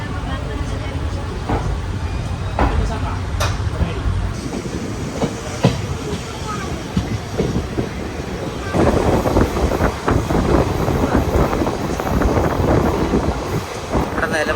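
Nilambur passenger train pulling out of platform 1 at Shoranur Junction in Kerala, a loud continuous rolling rumble with rhythmic wheel clatter, swelling louder midway, with wind buffeting the microphone throughout.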